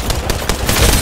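A Fortnite pump shotgun fires in a video game, a few loud, sharp game blasts in quick succession over dense, busy in-game sound.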